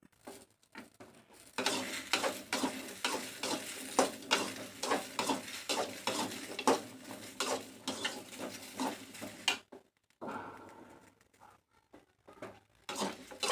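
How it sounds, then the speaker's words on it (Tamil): Okra dry-fries in a pan with a light sizzle and repeated scraping and tapping of a spatula against the metal, close and rhythmic, with a brief pause near the end. "ஃபஸ்ட்டு ட்ரையாக வறுத்து எடுத்து சைடில் வச்சுக்கலாம்."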